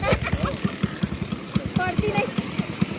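A motorcycle engine runs close by with a rapid, steady thumping idle, its pulses continuing throughout while people talk over it.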